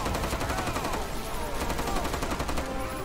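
Rapid gunfire in the zombie video game Left 4 Dead, a dense, continuous burst of shots that fills the whole stretch, loud and close, with the game's background noise and effects layered underneath.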